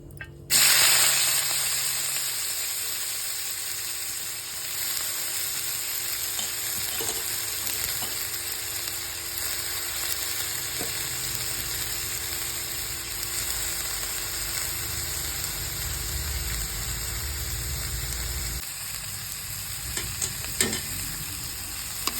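Onions frying in oil with cumin seeds in a pan, a close, steady sizzle with intermittent stirring scrapes and clicks, louder at the start as they hit the oil, continuing alone without talk.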